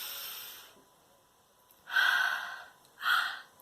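Deep breaths during a calming exercise for young children, two clear audible exhales in short succession following a fading breath, close and alone.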